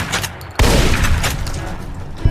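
A loud burst of gunfire from the video game Fallout New Vegas, a sudden close blast followed by a sustained rattle of shots, with another sharp hit at the end.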